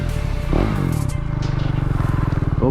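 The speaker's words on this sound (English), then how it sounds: "Here's the exhaust note." A KTM 390 Duke single-cylinder motorcycle exhaust revs up close by, its steady throbbing pulse rising and then holding a loud, even idle-to-rev drone, with no talking.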